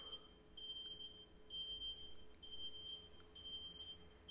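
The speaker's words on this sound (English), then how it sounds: "FedEx is always attacking the stream with beep noises" A FedEx delivery truck reversing outside gives off faint, regular high-pitched beeps that repeat at an even pace, distant and thin over quiet room noise.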